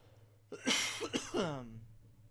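A person coughs into a microphone, a close, sharp burst of three or four rough coughs in quick succession ending in a throaty, trailing sound over a low electrical hum.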